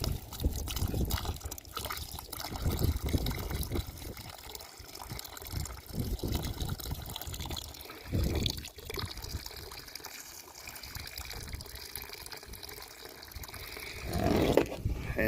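Liquid booster being poured from a container onto the ground around a tree outdoors, a steady close splashing and trickling with a few louder gushes.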